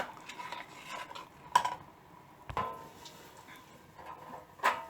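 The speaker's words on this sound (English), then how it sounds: "I've added the corn flour mixture and now I'll keep stirring till it thickens up" Gravy thickened with a corn flour mixture being stirred in a pot, soft scraping with a few sharp spoon clinks against the metal, quiet and close.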